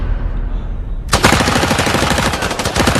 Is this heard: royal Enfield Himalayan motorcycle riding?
no